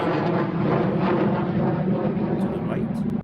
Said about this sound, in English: this fighter jet flying